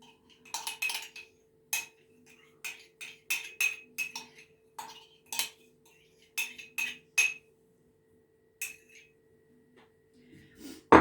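Sour cream mixed with soda is scraped out of a container with a utensil, giving a series of sharp close clinks and scrapes in irregular bursts, quieter toward the end.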